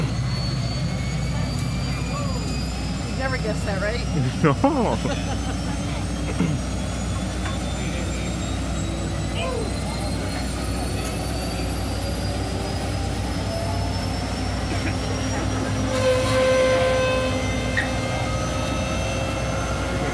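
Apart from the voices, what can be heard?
tank gas turbine engine starting up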